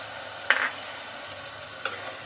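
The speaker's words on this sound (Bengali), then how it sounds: "এবারে ভালোভাবে নাড়িয়ে চাড়িয়ে মশলাটাকে কষিয়ে নিব বেশ কিছুক্ষণ" Spice paste with ground masala being stirred and fried in a pan for prawn malai curry: a steady low sizzle with two short scraping stirs, close and fairly quiet, no voices.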